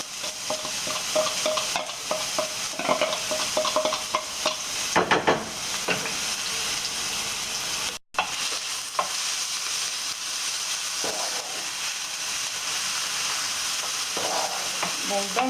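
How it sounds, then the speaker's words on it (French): Chopped onion frying in a drizzle of olive oil over medium heat, a steady close sizzle with stirring scrapes throughout, a brief dropout midway, no talking. "je vais ajouter donc l'oignon. Donc je vais le laisser revenir jusqu'à ce qu'il change de couleur."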